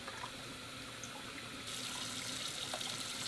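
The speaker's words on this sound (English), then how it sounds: "let's fill up the water." Water runs steadily into the water tank of an entry-level robot vacuum and mop combo, a continuous close hiss that grows louder and brighter about halfway through, with no talking.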